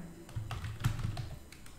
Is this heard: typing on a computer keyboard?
yes